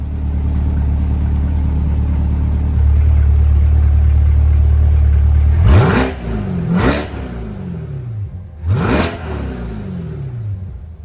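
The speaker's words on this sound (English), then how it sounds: "giving us good access to the engine" A Chevrolet Corvette C8 mid-engine sports car idles steadily, then its engine is blipped in three sharp revs that rise and fall quickly, heard close and loud.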